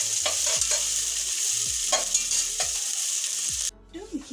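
Onions sizzle in a pan while being fried for haleem, with several sharp stirring scrapes over a steady hiss. The sizzle cuts off abruptly near the end, leaving near silence.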